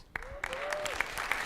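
An audience at a Harvard talk claps in a quiet spattering of applause with scattered sharp claps and a brief thin tone over it.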